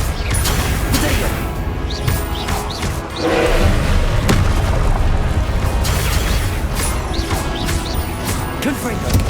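Blasting Confringo spell explosions in Hogwarts Legacy thump and crash almost without pause, with heavy booms layered over constant battle noise for the whole stretch.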